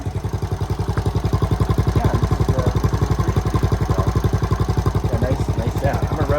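A 1971 Honda CT70 motorcycle idles with its vintage exhaust, a steady, loud, fast low putter that runs evenly through the whole stretch with no talk over it.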